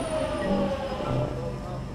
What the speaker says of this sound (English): The underground train is very bumpy.